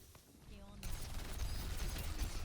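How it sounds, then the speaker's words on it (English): Rapid Sombra gunfire in an Overwatch match, a dense burst of rattling shots that starts abruptly and keeps up steadily, loud and close over game noise with someone talking underneath. "You actually ate some bullets from the Sombra"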